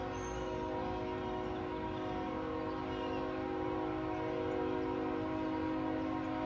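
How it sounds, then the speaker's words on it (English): A steady, droning train passes at a distance at night near the Elks lodge in Biloxi, Mississippi, a continuous low rumble with sustained tonal hum and no talking. "That's the train. And the train does tend to come by all hours of the night."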